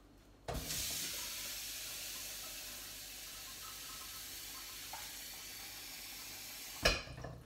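Water poured into a pan holding potatoes, a steady close hissing pour lasting several seconds before stopping, with a brief clatter at the end.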